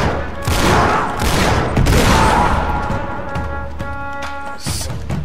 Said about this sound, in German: Achso, das war jetzt bloß der Revolver.